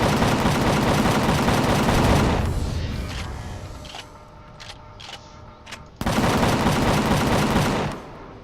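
Sustained automatic gunfire in a shooter video game, a dense loud burst for about two seconds, a lull with scattered single shots and mechanical clanks, then another long rapid burst.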